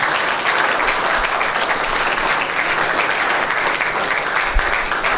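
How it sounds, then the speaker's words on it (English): Steady applause from an audience at an Indian government nutrition-month event, dense and continuous clapping filling the whole stretch at an even, fairly loud level. "So let's give a round of applause."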